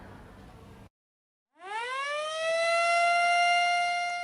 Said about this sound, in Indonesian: Bunyi sirine menandai diresmikannya tol Cileunyi-Sumedang Dawan atau Cisumdawu